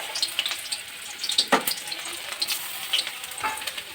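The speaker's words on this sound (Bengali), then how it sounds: "আমি এমনভাবে বাকি পেঁয়াজগুলোও ভেজে তুলে নেব" Onion fritters frying in hot oil in a wok, a steady close sizzle with stirring clinks and scrapes throughout, no voices.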